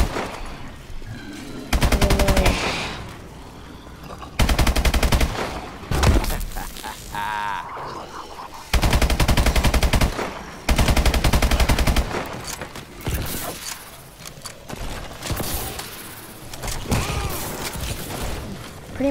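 Bursts of automatic gunfire from a gun in the Exo Zombies video game, several loud sustained volleys separated by short pauses, with mechanical clatter and game effects in between.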